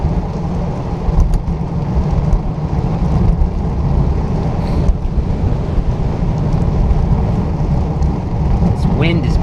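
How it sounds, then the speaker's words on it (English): Strong cold wind roars across the microphone during a night bike commute, a constant heavy buffeting rumble with gusts swelling throughout. "This wind is brutal. Brutally cold."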